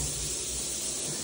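Body jets on a Grohe shower mixer spray water in a steady, close hiss of dense streams, continuous and fairly loud with no voices over it.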